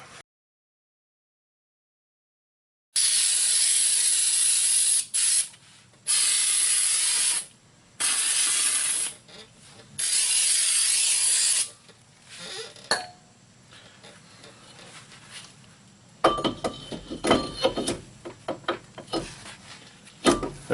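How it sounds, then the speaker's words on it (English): Brake cleaner sprayed onto the brake rotor of a 2001 Buick Century during front hub bearing work: four loud, close hissing bursts, each about one to two seconds long, separated by short pauses, then quieter clatter and handling noises. "We're going to hit our rotor with a little bit of brake clean"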